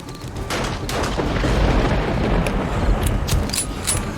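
Sustained AK rifle gunfire in the 7 Days to Die survival game, loud and close, rapid booming shots blending into a continuous roar with sharper cracks standing out toward the end.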